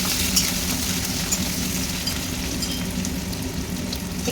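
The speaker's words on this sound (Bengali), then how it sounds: "এবার আমি বাকি যে পেঁয়াজটা কেটে রেখেছিলাম এখানে দিয়ে দিলাম।" Chopped onion frying in oil in a pan with bay leaf for a Bengali lote fish jhuri dish, a steady close sizzle with faint crackles running throughout, no talking.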